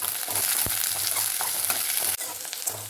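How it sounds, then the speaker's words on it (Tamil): Onions and curry leaves sauté steadily in a hot pan, with occasional stirring clinks and scrapes, close and continuous. "வெங்காயம் கருவேப்பிலை எல்லாம் சேர்த்துட்டு இதை நல்லா வதக்கிக்கணும்"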